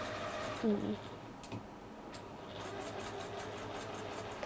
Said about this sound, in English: So I'm just going to go top stitch around here.